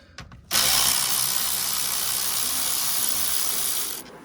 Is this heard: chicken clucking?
no